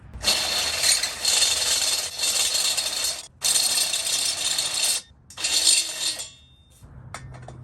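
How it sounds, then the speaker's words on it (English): Loud, harsh grinding of a step drill bit biting into metal in several long bursts with brief pauses between, ending in a few small rattles. "decided to switch to a step drill bit"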